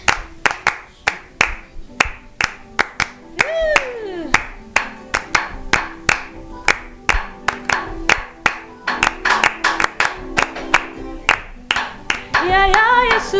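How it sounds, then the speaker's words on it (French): A group claps hands together in steady rhythm to acclaim God during a Congolese worship song, with brief voices and sung notes rising over the sharp, close, continuous clapping. "On peut acclamer pour Dieu."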